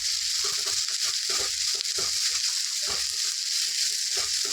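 Grated carrot and onion fry in a pan for dosa-batter ponganalu, a steady bright sizzle with soft, repeated stirring scrapes and thuds underneath, close and continuous.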